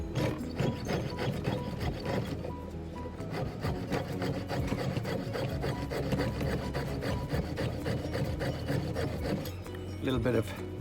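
A hand saw cutting through a metal casting sprue, giving a continuous rasping back-and-forth stroke, close and steady throughout, with a faint voice underneath.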